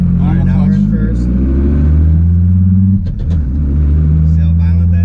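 An 1800 hp twin-turbo Dodge Viper ACR with a manual clutch launches hard from a traffic light, its deep engine roar climbing in pitch, dipping briefly at a gear change, then pulling loud again while a voice talks over it inside the car.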